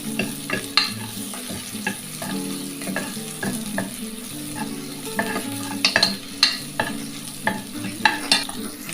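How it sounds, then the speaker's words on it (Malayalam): Onions fry in a pan for a shark curry with a steady crackling sizzle. Frequent spoon scrapes and clatters keep an uneven rhythm, with no speech over the cooking sounds. "നമ്മുടെ ഉള്ളിയൊക്കെ ഇവിടെ നന്നായിട്ട് മൂത്ത് വരുമ്പോൾ ഒരു ചോട്ട കളറായി വരുമ്പോൾ"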